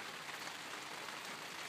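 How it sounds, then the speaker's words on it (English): Steady rain falls outside in Sydney near a small greenhouse, a soft, even hiss of drops with no voices, continuing throughout. "It's raining now at Yarn, Sydney."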